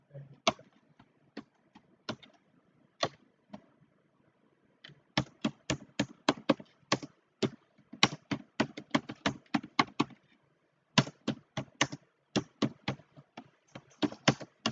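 Code being typed on a computer keyboard, sharp key clicks in quick irregular bursts with short pauses, close and fairly loud, no talk.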